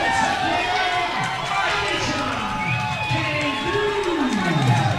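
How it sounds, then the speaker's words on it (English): A crowd at an amateur MMA event cheers for a fighter's introduction, a moderate roar of voices and shouts sustained under a ring announcer's amplified speech. "Good little pop from the crowd."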